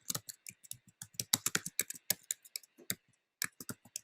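Quick, crisp keystrokes on a computer keyboard patter in an uneven run, close-miked and fairly quiet, with a short pause near the end before a few final taps, no voices.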